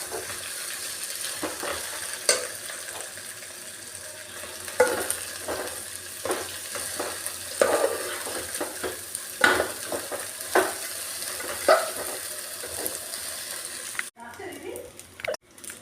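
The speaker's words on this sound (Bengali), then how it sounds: "এবার আস্তে আস্তে আমি এটাকে নাড়বো এবং লাল লাল করে হালকা ভেজে নেব" Rice being stirred and lightly fried in a pan for basanti pulao, with a continuous sizzle and repeated sharp scrapes and knocks of a spoon against the pan, close by, ending in a brief pause.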